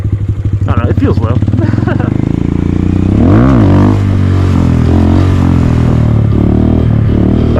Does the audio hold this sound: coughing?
no